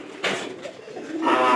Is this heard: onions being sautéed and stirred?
no